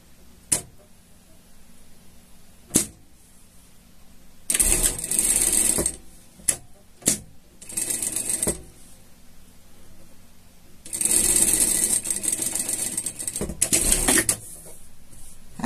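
Sewing machine stitching seams on a behavioral pet harness, several short loud whirring bursts separated by pauses and sharp clicks of fabric handling.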